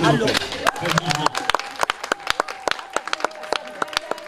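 Wedding guests applauding at a civil and religious ceremony, a brief burst of clapping that thins into scattered, separate claps, with voices at the start.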